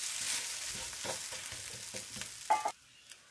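A soft, spongy, roasted flatbread-style batter dish fries in a pan after being flipped. It gives off a steady, bright sizzle and hiss, with a short utensil scrape near the end before the sound drops away.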